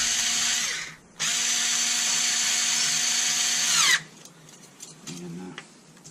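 A power driver whines steadily as it runs self-tapping screws into a Whirlpool side-by-side refrigerator condenser fan motor, with two sustained bursts separated by a brief pause, then fainter handling clicks close by.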